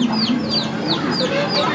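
Chickens and a rooster cluck and squawk repeatedly in quick, agitated bursts as a turkey fights a cock in a farmyard, loud and close, with occasional voices in the background.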